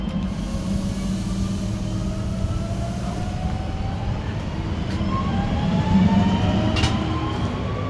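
A Regio regional train rolling past and pulling away, a loud steady rumble of wheels and motors with rising whining tones, swelling slightly near the end, with no talk over it.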